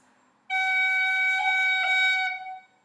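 A roll on the F played on a wind instrument, likely a tin whistle, for a traditional Irish tune: one bright sustained note with a quick ornamental flutter near the end, played alone and moderately loud before stopping.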